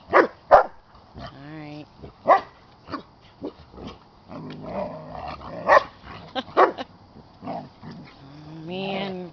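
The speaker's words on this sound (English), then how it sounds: "vicious, violent dogs." Several dogs wrestling bark in sharp bursts and growl in between, close and loud, with a brief spoken word mixed in.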